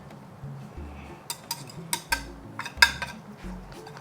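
A utensil clinks and scrapes against a pot while garlic powder, onion powder and paprika are stirred into nacho cheese sauce, giving soft, irregular taps over a low hum.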